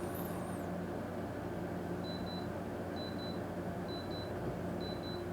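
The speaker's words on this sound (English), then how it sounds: "It will be a very high decibel beep" A Soundcore Liberty 4 NC earbud resting on a desk emits repeated high-pitched find-device beeps, four short evenly spaced bursts over a steady background hum.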